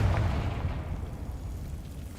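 A Confringo spell in Hogwarts Legacy goes off as a single blast, a low burst at the start that decays into a fading rumble over about two seconds.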